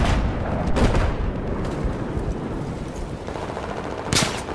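Rapid, dense gunfire from the Battlefield 4 video game crackles loudly and close, with a long sustained volley and a sharper burst near the end, no talk over it.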